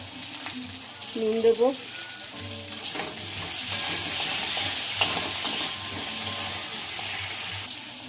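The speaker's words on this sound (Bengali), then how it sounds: "আলুটা তেলে একটু নাড়াচাড়া করে নেব" Potatoes frying in hot oil and being stirred with a spatula, a steady sizzle running throughout with scraping stirs, while someone talks briefly over it.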